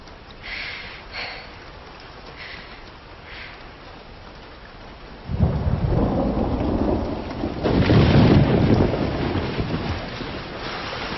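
A thunderstorm with heavy rain: after a few seconds of quieter rainfall, loud, close rolls of thunder break in and rumble on with a second, stronger peak, while steady rain continues underneath and no one speaks.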